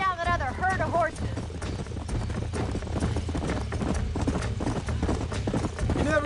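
Horses galloping in the video game Red Dead Redemption, a steady rapid clip-clop of hooves throughout with an early whinny, under continuous game sound.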